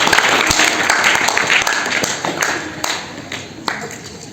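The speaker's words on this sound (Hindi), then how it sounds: "संस्कार के लिए भी एक बार जोरदार तालियां हो जाओ" A school audience at a storytelling event claps in a brisk burst of overlapping hand claps that thins out into scattered claps toward the end.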